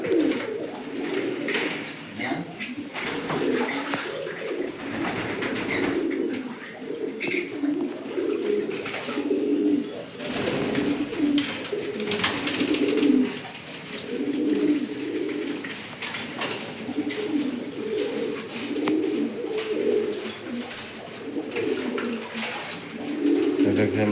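Pigeons at a pigeon farm coo in repeated low, throaty phrases that overlap steadily, with flutters and light background noise, and a voice talks faintly at times.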